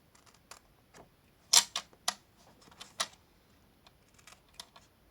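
Scissors cutting paper tabs, a sequence of crisp snips and small clicks at close range, irregularly spaced with quiet gaps between them.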